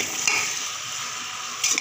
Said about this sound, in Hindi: इसमें हम हल्दी पाउडर डालते हैं, 1 चम्मच हल्दी पाउडर, इसको हम हल्का चलाएंगे